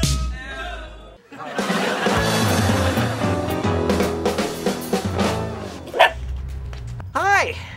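A dog barks a few times against a loud background of music, with brief yips near the end.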